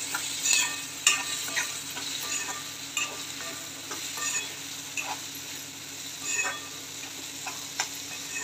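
Sprouted green moong curry stirred in a pan, with soft scraping and clicking strokes at an irregular pace over a steady sizzle, close and fairly quiet, with no talking.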